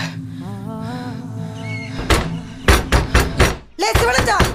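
A series of loud wooden knocks on a door, a few sharp raps followed by a faster cluster of heavier thumps, after a voice speaks at the start.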